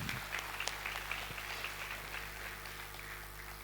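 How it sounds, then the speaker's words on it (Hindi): Crowd applause at a company's first anniversary event in Patna, India, a steady wash of many hands clapping throughout, moderately distant with a low hum beneath. "हम चाहेंगे कि इस विजन्स के लिए एक बार जोरदार तालियां बजाएं"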